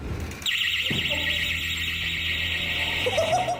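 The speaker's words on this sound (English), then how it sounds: "they set an alarm off after yanking open one particular door" An alarm blares after a door is yanked open, a steady loud high electronic tone that cuts in suddenly and holds for several seconds, with no talking.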